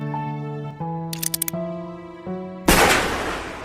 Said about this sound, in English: Kiruko hears gunshots.